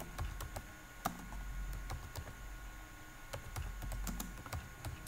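Typing on a computer keyboard, a steady run of quick light key clicks, close and fairly soft, over a low hum, with no one speaking.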